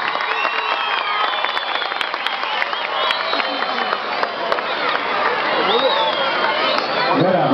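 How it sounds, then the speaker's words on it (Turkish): A crowd at the opening of a healthy-living sports festival applauds famous athletes, with steady clapping and crowd noise mixed with chatter throughout. "Alkışlar ünlü sporcular için geliyor"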